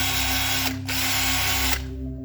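A Parkside PWBSA 12 A1 cordless angle drill, with a variable-speed trigger up to 1300 rpm, runs with a steady close whine, dips briefly as the trigger eases, then resumes and shifts pitch near the end.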